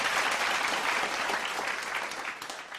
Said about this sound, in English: Let us give her another warm round of applause.